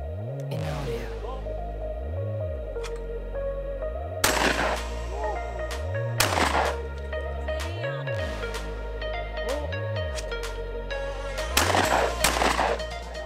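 Gunshots at an outdoor-style shooting range: a few sharp, loud reports spaced several seconds apart, cutting through a steady, pulsing mechanical hum.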